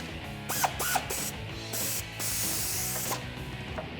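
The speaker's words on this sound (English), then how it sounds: "we're gonna hit that with a 15mm ratchet" 15mm ratchet tightening a bolt on a Jeep Wrangler TJ control arm, heard as quick bursts of close clicking and rubbing strokes spread through the clip.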